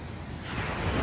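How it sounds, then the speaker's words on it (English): Someone wades through water while holding a phone: a continuous rushing, sloshing wash that swells slightly louder toward the end, with no voices. "I'm walking through water right now"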